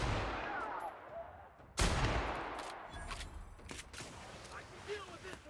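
Gunshots from a weapon in The Outer Worlds: a sharp, loud shot near the start of the second second, followed by scattered quieter bursts and impacts against a busy game soundscape.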